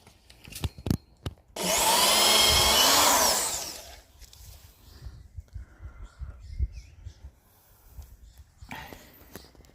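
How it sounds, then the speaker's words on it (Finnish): A power drill boring a pilot hole into a wooden board while an outdoor run cable for a Tibetan spaniel is being installed, a loud steady whine of about two seconds amid handling knocks and quiet background noise. "Tähän kun poraa vähän tuo sopiva koko se reijän"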